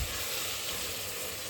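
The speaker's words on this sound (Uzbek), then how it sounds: "Buni birpas qovuramiz. Pomidor o'lishi kerak." Tomatoes fry in a pot with a steady, even sizzle that runs throughout, fairly quiet and uninterrupted, with no voices.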